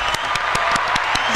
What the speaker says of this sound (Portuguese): cadê meus aplausos?